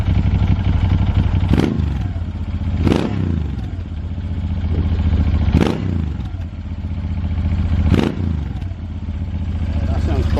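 A Moto Guzzi V11 Le Mans motorcycle idles with a deep, steady engine rumble, broken by four sharp throttle blips spaced a couple of seconds apart, heard close up.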